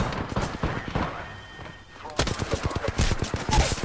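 Gunfire in the Apex Legends battle royale game, a quick string of sharp shots and bursts cutting through the mix, starting loud after a brief lull, with players talking excitedly over it.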